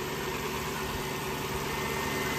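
Lexus LS430 V8 engine idling right after its first start following transmission work, a steady, even low hum close by with no talking.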